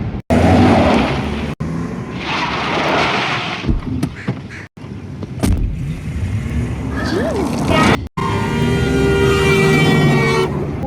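A car weaves quickly through road traffic while other drivers honk their horns repeatedly, engine and road noise loud and continuous, with voices talking over the scene and short breaks in the sound.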